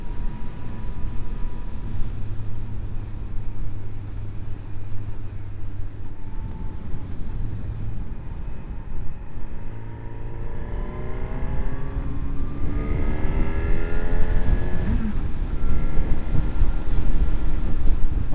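A Honda CB1000 Hornet motorcycle ridden on small twisty roads, its engine note repeatedly climbing and dropping through the bends under a constant roar of wind buffeting the microphone, with no talk.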